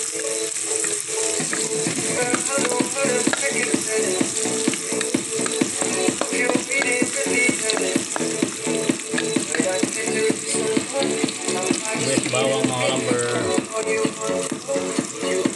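Onion and garlic sauté in a pan with a busy, crackling sizzle and frequent stirring clicks, running throughout beneath steady tonal background music.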